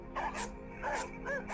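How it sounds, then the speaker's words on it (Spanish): Several dogs kept in a corral bark in repeated bursts, three clusters of yelps and barks over a low steady background, faint and somewhat distant. "los perros ya estaban en el corral, pero a pesar de la distancia sintieron aquel olor acre y difuso y se pusieron a ladrar"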